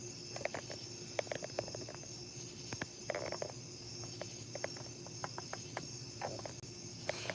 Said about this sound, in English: Yeah, you hear them? The crickets.